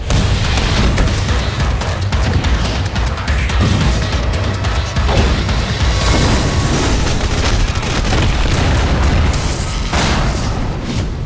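Explosions in the video game Red Faction Guerrilla, with loud, dense booms and crashing debris rolling on without a break at close range.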